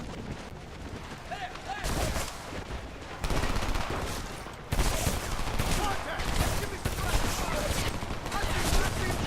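Heavy gunfire in the Homefront video game, dense bursts of automatic weapons and rapid repeated shots overlapping in a loud, sustained battle, with someone talking over the shooting.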